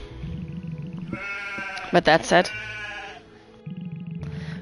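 Sheep bleat in the farming game Potion Permit, one clear wavering bleat in the middle while a voice talks over soft background music.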